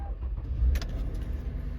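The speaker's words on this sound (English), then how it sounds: "It has a remote and a turn key, so we can put this on ignition and start it up." A turn-key car with over 347,000 miles, left sitting overnight, starts with a short low burst of cranking that settles at once into a quiet, steady idle rumble.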